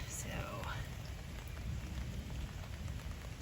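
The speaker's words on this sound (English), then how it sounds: "still raining." Rain falls steadily at a campsite in Pinchot during an evening storm, a soft continuous patter and hiss, fairly faint and unbroken.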